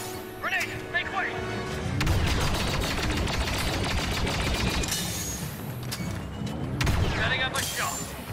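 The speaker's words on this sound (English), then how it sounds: "Grenade, make way!" Grenade blasts and heavy gunfire fill a Galactic Assault battle in Star Wars Battlefront 2, with dense continuous firing, booming explosions and brief clone trooper voice calls cutting through.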